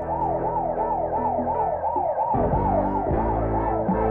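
An ambulance siren wails continuously in a fast, rising-and-falling pattern, loud and close, with road traffic rumbling underneath, in the 1979 film Rocky II.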